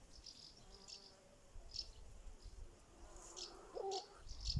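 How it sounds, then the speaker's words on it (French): Bees, wasps and hornets hover around borage flowers in a garden, giving a faint, wavering insect buzz that comes and goes, with occasional distant chirps and soft outdoor background noise. "sacrément des abeilles et des guêpes là, et des frelons avec mes bourraches à côté"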